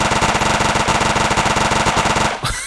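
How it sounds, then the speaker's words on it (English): A minigun in an Unreal Engine multiplayer battle royale game fires a loud, continuous stream of rapid shots for about two seconds, then stops abruptly and leaves a short ringing tail. "So now we're holding a minigun."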